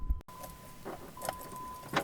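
Keys jingle and rattle faintly in the ignition of a first-generation Dodge Caravan with a manual transmission, a few brief metallic jiggles close by over a quiet background with a faint tone.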